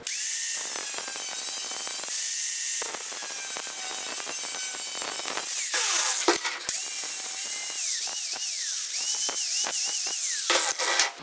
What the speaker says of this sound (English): I'm going to cut basically right on my scribe line, and then that should fit straight in.